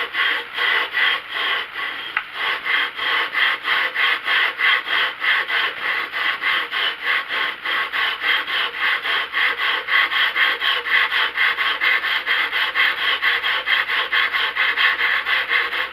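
Scope rings being lapped with a lapping bar pushed back and forth, producing a steady rhythmic metallic rubbing with regular strokes, close and continuous without speech.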